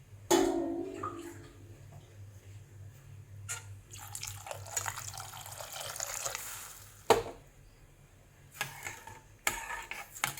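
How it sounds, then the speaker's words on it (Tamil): Water is poured into a pot for banana stem soup, a steady splashing pour with a few sharper splashes and drips, close and moderately loud, with no talking. "நான் இதில் ஒரு 5 கிளாஸ் தண்ணி விட்டுருக்குறேன்."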